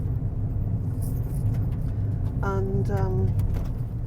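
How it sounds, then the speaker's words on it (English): Steady low road rumble from inside a car travelling at about 30 miles an hour on a road in Ireland, continuous throughout, with a brief voice and a short tonal chirp partway through. "I'm driving at 30 miles an hour, perhaps a wee bit under that."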